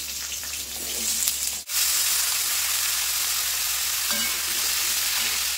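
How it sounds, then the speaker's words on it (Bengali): Cut, washed pumpkin pieces frying in hot oil, a steady close sizzling hiss that runs throughout, briefly dipping once before resuming at full strength. "ওই তেলের ভিতর কেটে ধুয়ে রাখা আমি কুমড়োগুলোও কিন্তু ভেজে নেবো"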